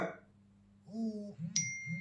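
An Ambrane Wise Glaze smartwatch plays a brief bright chime for an incoming SMS, with a soft rising tone before it, heard close and fairly quietly over a low hum.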